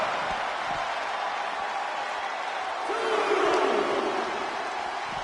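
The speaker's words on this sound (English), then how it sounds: "He's pumped up, and so is this crowd." A virtual arena crowd in the WWE 2K25 wrestling game roars and cheers in a steady, broad wash of noise that swells slightly midway through.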